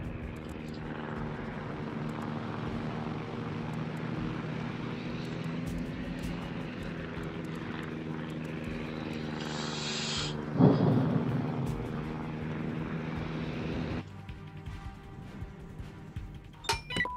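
Carrier aircraft taking off from an Independence-class aircraft carrier in World of Warships: a steady droning propeller engine hum that builds and swells, with a brief whoosh and then a quieter aftermath, no voices.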